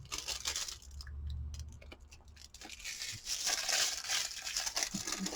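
Protective film peeled from a holographic craft film sheet, with crinkling, crackling plastic and a few soft crunches, close and fairly steady throughout with no talk.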